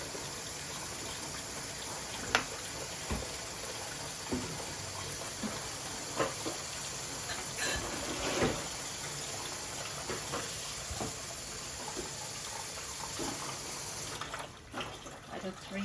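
Water runs and splashes steadily into a pot of lamb stew with potatoes for several seconds, with faint clinks of metal cookware along the way.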